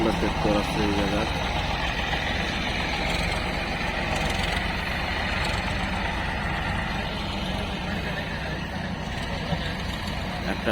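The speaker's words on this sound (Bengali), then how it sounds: "একটা ট্রাক্টর লোডিং করে নিয়ে যাওয়া হইতাছে, উপর দিকে উঠতেছে" A diesel Sonalika tractor engine rumbles steadily nearby while it climbs up to be loaded, with a continuous low mechanical drone and people talking over it.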